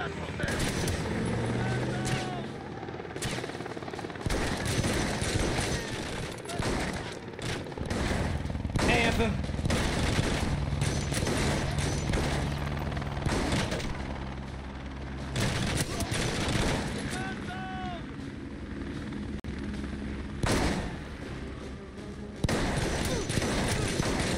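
Gunfire in The Bourne Conspiracy video game, repeated bursts and sharp shots with booming hits during an intense firefight, loud and close, with a voice talking over parts of it.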